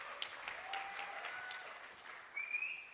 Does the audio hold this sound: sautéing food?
no